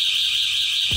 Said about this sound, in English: a wireless key with a motion alarm